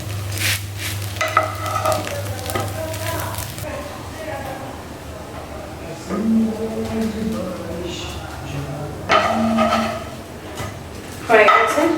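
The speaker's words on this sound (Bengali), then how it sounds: "আর এবার আমি ব্রেডগুলো ভেজে নেব।" Bread slices frying in oil in a pan, a soft steady sizzle running through with occasional scrapes and stirring clatter, while a person talks intermittently over it.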